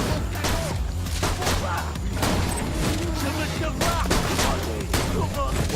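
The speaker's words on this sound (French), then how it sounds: "Fusil à pompe, c'est une tuerie, mec." Rapid bursts of shotgun fire and impacts from the video game Borderlands 2 form a dense, continuous barrage of loud blasts and thuds, with excited voices talking over the gunfire.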